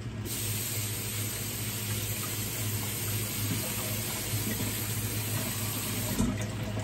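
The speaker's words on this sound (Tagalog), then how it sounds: "Tapos tubigan natin ng konti yan." Water poured into a pot of squash makes a steady, soft hissing splash that runs continuously and ends with a small clunk near the finish.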